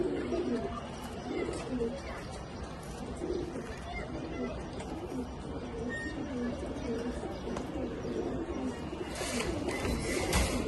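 Soft, low cooing of jabra pigeons repeating throughout, mixed with rustling and someone talking over them.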